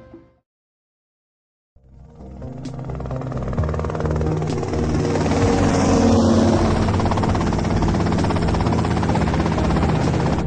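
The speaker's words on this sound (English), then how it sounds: "Okay, that's them in the chopper." A helicopter in the video game GTA Vice City fades in after a short silence and swells into a loud, steady rotor-and-engine drone. The drone holds continuously to the end with no talking.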